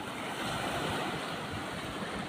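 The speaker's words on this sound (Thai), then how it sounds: "มีคลื่นนิดหน่อยนะครับ" Sea waves rolling in along a shoreline, a steady broad wash of surf with wind noise over the microphone, continuous and fairly loud for the whole stretch, with no voices.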